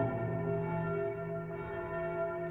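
Church bells ring on and on in Domrémy-la-Pucelle, France, in a sustained resonant tone with steady overtones, heard at moderate distance and fairly quiet, with no talk over them.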